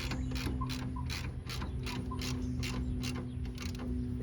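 A ratcheting tool clicks rapidly in a steady rhythm while tightening the bottom bolt of a rear shock on a 1993–2010 two-wheel-drive Ford Ranger, heard close with a faint mechanical hum beneath.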